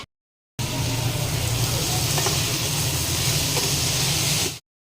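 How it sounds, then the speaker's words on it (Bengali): Vegetables, okra and potatoes, dropped into hot oil for a vegetarian meal, sizzle and hiss in a steady, loud, continuous wash of frying noise with no voices over it. "তেল গরম হয়ে গেছে দাদা সবজিটা দিয়ে নি"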